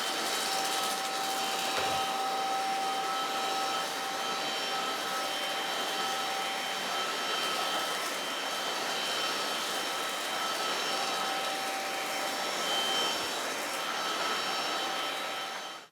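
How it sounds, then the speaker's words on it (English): A MooSoo K17U cordless vacuum cleaner runs steadily for the whole stretch, a loud, close, continuous whine with a fixed high tone that cuts off at the end, with no talking. "That was a quick demonstration on the MooSoo K17U Cordless cleaner."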